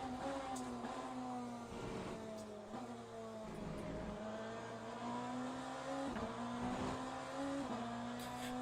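A BMW hypercar racing at Le Mans, its engine note holding a steady sustained drone with shifting pitch, heard continuously at moderate level from onboard with no talk.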